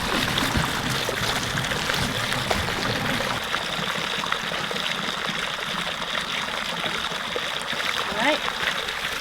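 Water runs steadily from a natural spring as a container fills, a continuous close trickle and splash in a wooded outdoor setting, with a voice speaking briefly over it.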